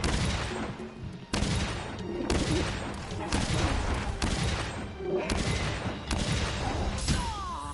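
Heavy bowgun firing spread ammo in Monster Hunter World, a string of loud booming shots every second or so, each a sharp burst with crackling spread, amid battle noise and monster sounds.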